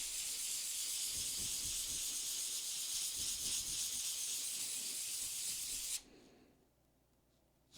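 Sandpaper rubbing back and forth over a 3D print made from Proto-Pasta stainless steel filament, a steady loud hissing scrape that stops abruptly near the end, leaving near silence.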